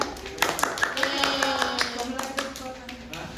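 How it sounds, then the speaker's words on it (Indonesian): Classmates in a classroom clap for a fellow student, a scattered patter of hand claps with distinct sharp hits under ongoing chatter and voices nearby. "Tepuk tangan untuk temannya kawan"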